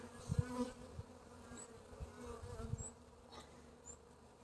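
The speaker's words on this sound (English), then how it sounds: "So we got the bees right here." Honey bees buzz steadily nearby at a hive, a dense droning hum with a few individual insects passing close and fading.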